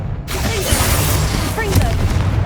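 The Confringo spell goes off in Hogwarts Legacy with a loud, booming explosion that fills the clip, with crackling bursts and swooping tonal whooshes layered over a sustained rumble.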